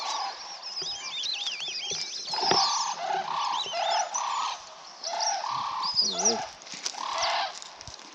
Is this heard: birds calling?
yes